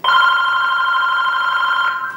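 A telephone bell rings loudly and steadily for about two seconds, one unbroken electronic trill with no other sounds around it, in a painter's studio.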